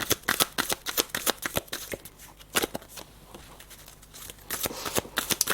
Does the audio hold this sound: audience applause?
no